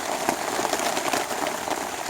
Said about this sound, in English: Well, you guys can see it's still raining.